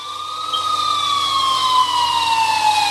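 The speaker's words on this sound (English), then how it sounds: "I finally heard sirens in the distance" Emergency sirens wail steadily, their pitch gliding slowly downward, sounding somewhat distant over a low background hum.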